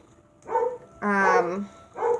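Dogs give a few close barks, one short bark followed by a longer, drawn-out, whining bark and then another short one, loud and near with no speech over them.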